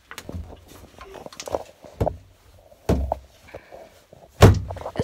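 A door in an RV banging and thudding several times in irregular knocks, some loud and close, mixed with scattered faint voices.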